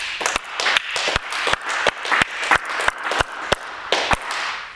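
A church congregation clapping in a quick, regular rhythm during a French-language service, a dozen or so sharp claps close and fairly loud, with a murmur of voices underneath.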